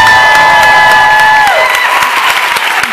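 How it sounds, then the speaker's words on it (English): A crowd at the LA Summer Bachata Festival applauds and cheers for a kizomba dance couple, with loud, continuous clapping and whoops close by and a high sustained tone fading out early on. "you guys give a round of applause for these two beautiful people right here?"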